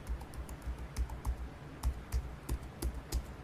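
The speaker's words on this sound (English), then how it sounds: "I'm just going to start typing all these letters and symbols" Rapid clicking keystrokes on a computer keyboard, fairly quiet and close, tapping in an uneven steady rhythm with no voices.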